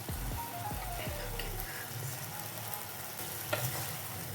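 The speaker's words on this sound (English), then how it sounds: "Just let them simmer in a few seconds." Omena fish with lemon simmering and sizzling steadily in a pan, with a few stirring scrapes early on and a soft crackle throughout.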